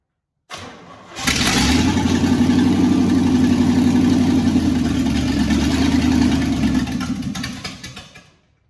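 A 1963 Chevy C10 truck engine under restoration cranks briefly, then catches and runs at a loud, steady, rough idle for several seconds before dying away, heard close up with no talking.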